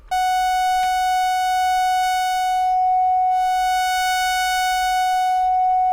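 Steady synthesizer tone from a Korg Minilogue XD-style vector oscillator, blending sine toward sawtooth, holds a loud constant pitch rich in even harmonics, with upper overtones fading and returning partway through.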